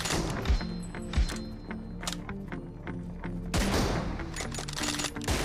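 Gunfire in a mobile shooter game on a Samsung phone: repeated sharp shots in short bursts over a steady game soundtrack, with several louder, closer blasts.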